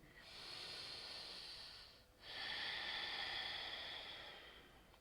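Deep, audible breathing during a yoga class in downward facing dog pose, a long hissing exhale, a brief pause, then another long breath, close and soft, with no talk.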